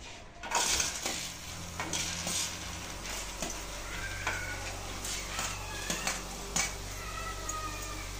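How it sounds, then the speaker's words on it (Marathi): Tomatoes roasting and frying in a pan, with clattering utensil knocks and scraping over a low, steady sizzle and hum. "टोमॅटो भाजून घ्यायचं पाहिजे."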